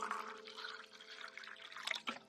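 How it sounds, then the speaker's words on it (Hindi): Water is poured into a glass as a sound effect, a soft, close trickling and splashing that runs steadily and ends with a couple of brighter drips. "उसने ग्लास में पानी भरकर यश को दिया"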